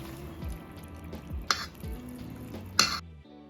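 Wet ingredients stirred into dry ones for a vegan, gluten-free cake batter: soft, close scraping and sloshing strokes in an uneven rhythm, with two brief clinks of utensil against bowl.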